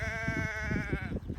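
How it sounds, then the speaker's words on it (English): A single drawn-out sheep bleat, clear and fairly near, over low rumbling background noise, out on open moorland on a long-distance walking route in the Yorkshire Dales. "Hello sheep."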